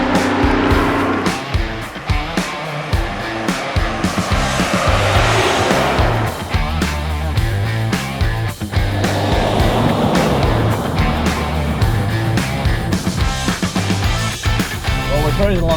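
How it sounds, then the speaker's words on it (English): A V6 Ford Ranger driving along a dirt road, a loud continuous engine and tyre rumble with gravel and road noise close by, and someone talking over it. "Cruising along the dirt road now"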